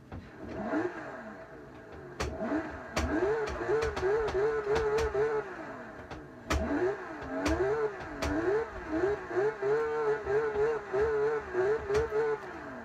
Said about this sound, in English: do you want to hear the engine note of this?